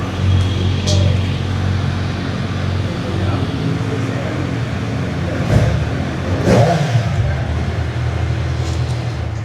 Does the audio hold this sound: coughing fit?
no